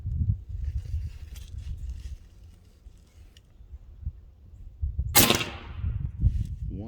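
A Hatsan Hercules Bully .25 air rifle fires a single sharp shot through a chronograph, a loud crack with a brief bright ring-off, standing out against low room rumble.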